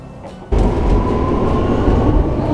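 Inside a Shanghai metro train, a loud steady rumble of the moving carriage surges in after a quieter half-second and holds, with faint rail clatter underneath and no talking.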